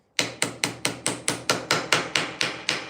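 A rapid series of about twelve sharp hammer blows on a curved waterfall wood joint, evenly spaced and close, each a crisp knock with a short ring.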